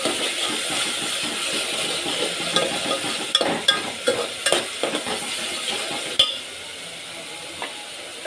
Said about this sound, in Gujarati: લઈ લીધું છે ચમચો તો હલાવી નાખીએ